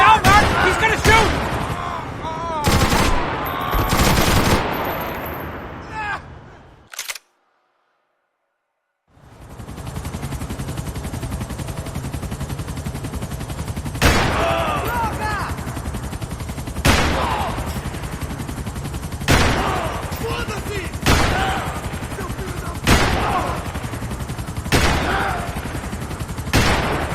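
Video game gunfire from Max Payne 3 cracks in sharp bursts, first rapid volleys, then a brief silence, then evenly spaced single shots over a steady background rumble, with voices in the game mixed in.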